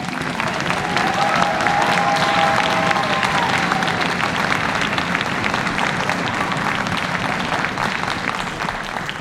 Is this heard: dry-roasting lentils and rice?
no